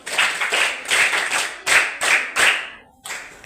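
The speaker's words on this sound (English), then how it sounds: "Please clap for her" A classroom at an alliterative story writing workshop claps for a student, several close bursts of clapping separated by brief pauses.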